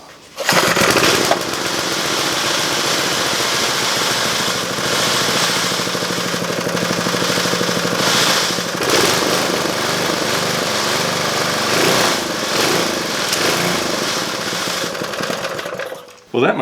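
A Briggs & Stratton small engine, revived after sitting dead for over a year with its throttle held by hand, runs loud and steady up close for most of the stretch before cutting out near the end.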